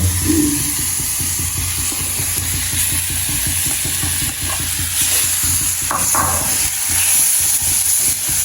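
Mashed potato hitting a hot frying pan gives a steady, close sizzle with a continuous hiss, and stirring scrapes run through it for the whole stretch.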